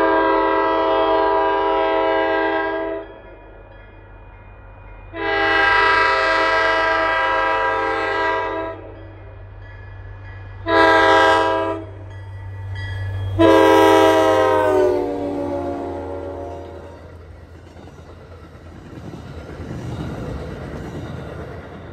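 A GP40MC diesel locomotive leading a commuter train in Massachusetts sounds its horn in four long, loud blasts over a steady engine rumble, then the train rolls past with fading rail noise.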